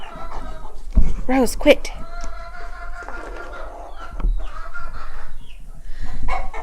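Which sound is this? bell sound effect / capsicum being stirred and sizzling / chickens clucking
chickens clucking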